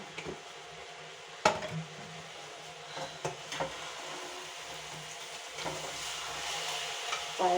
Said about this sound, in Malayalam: നെയ്യ് എല്ലായിടത്തും ഇളക്കി കൊടുത്ത് യോജിപ്പിച്ചെടുക്കും നമ്മൾ